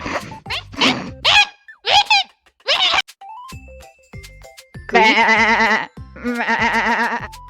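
Sheep and goats bleating in a rapid series of loud, wavering calls near at hand, with short pauses and a few soft thumps between them, the last calls longer and drawn out.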